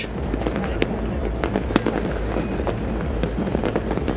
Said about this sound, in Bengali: নিষেধাজ্ঞা থাকলেও আতশবাজি, ফানুস আর লেজার রশ্মির তীব্রতায় বরণ করা হলো খ্রিস্টীয় নতুন বছর 2025